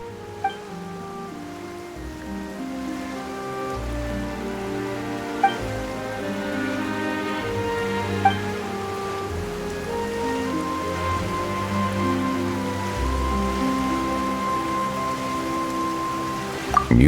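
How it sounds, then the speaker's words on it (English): Steady rain falls in the video game Genshin Impact, a continuous patter of drops spread under sustained tonal game music, with a few soft chime-like accents and no voices. "Why is it raining all of a sudden?"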